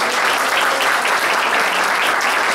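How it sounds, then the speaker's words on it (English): An audience at a community forum on the future of Puerto Rico breaks into loud, sustained applause, a dense continuous wash of hand clapping with no talking. "And Dr. Samuel Cruz, a round of applause."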